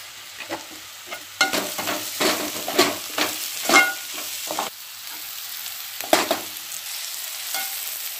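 Onions sauté in a pan for onion rice, loud sizzling broken by repeated scraping stir strokes in an uneven rhythm, close and clear with no talking.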